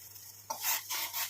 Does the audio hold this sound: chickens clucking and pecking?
no